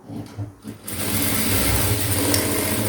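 A sewing machine stitches a fold in blouse fabric, a steady close mechanical whir that starts abruptly after a brief pause with faint handling sounds and runs continuously to the end.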